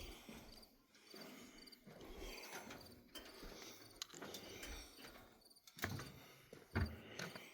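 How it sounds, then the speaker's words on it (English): A cricket chirps faintly at night beside a lake, its thin, rapid trill buried in low, rustling outdoor noise and occasional knocks. "That's not a frog, that's probably a cricket."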